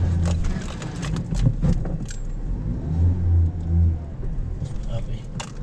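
A car passes on a road, a steady engine rumble rising and falling at close range, with people talking over it throughout.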